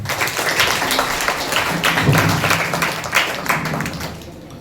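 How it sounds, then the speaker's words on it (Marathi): An audience claps at the prize ceremony of a taluka-level science exhibition at a B.Ed college in Kudal, giving a sustained, moderately loud burst of applause that fades toward the end. "त्याबद्दल जोरदार टाळ्या वाजवा."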